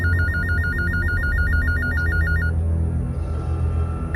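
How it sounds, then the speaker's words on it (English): A telephone rings with a rapid, pulsing electronic trill that repeats steadily for about two and a half seconds, then stops, leaving a low background hum. "A phone call woke me up."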